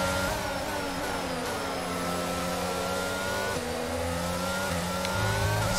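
Formula 1 cars in the F1 22 game launching from a standing start at Zandvoort, a dense, loud, steady engine whine rising in pitch as the field accelerates together, continuous throughout with no voices.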